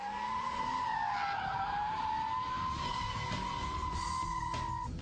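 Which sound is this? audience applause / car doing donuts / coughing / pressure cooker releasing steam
car doing donuts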